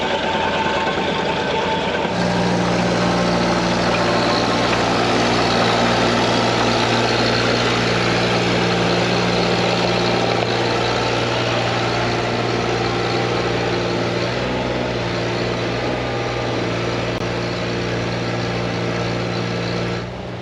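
Diesel engine of a Cat 302.5 mini excavator starting up and running steadily close by, a loud continuous rumble with a slight change as the machine moves to park.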